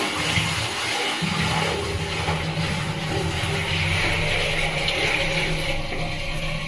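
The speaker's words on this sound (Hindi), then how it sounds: "पहले पानी डाल के लीकेज को चेक करेंगे।" Water is poured into a newly fitted floor-mount syphonic commode toilet to test for leaks, a steady rushing splash that runs continuously and fairly loud throughout.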